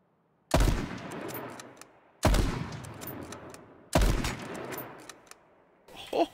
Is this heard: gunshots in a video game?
yes